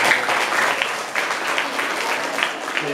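Children clap together in a school hall, a dense steady burst of applause lasting a few seconds, loud and close.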